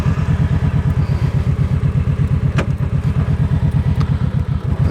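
A motorcycle pulling away on a rustic rural road, its engine thumping in a steady, fast rhythm close to the microphone, loud and continuous with a couple of brief clicks over the top, no talking.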